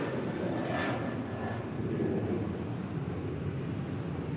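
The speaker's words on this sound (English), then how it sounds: "That was United 2373 departing to Kailua, Kona on a 737-900 ER" A United Boeing 737-900ER jet departs LAX bound for Kailua-Kona, heard as a steady, loud, broadband engine roar that holds constant throughout with no talk over it.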